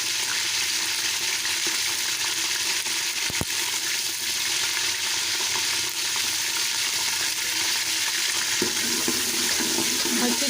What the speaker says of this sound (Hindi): ये घी को मैंने अच्छे तरीके से गर्म कर लिया है। अब इसके अंदर डालेंगे लहसुन अदरक का पेस्ट